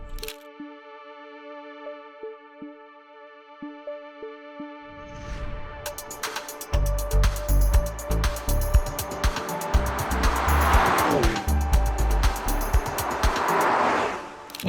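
Mercedes-AMG GT63 heard from inside on a drive: a steady tonal hum at first, then a deep engine rumble swells in and holds loud and close to the end, with no talk.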